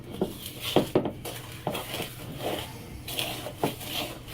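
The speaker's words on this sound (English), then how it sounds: "It's not that hard to stir by hand" Pumpkin chocolate chip cookie dough stirred by hand in a bowl, with soft thick scraping and intermittent spoon knocks against the side, close and moderately quiet.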